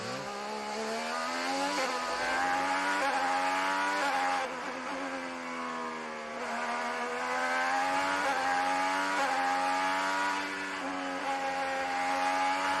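An IndyCar race car engine screams around the Monterey track, a high sustained whine that climbs through repeated upshifts over several seconds, loud and close.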